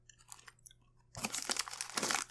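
A crunchy, salted, greasy potato chip from a French snack box is bitten and chewed close to the microphone, with a few small crackles first and then loud, repeated crunching bursts.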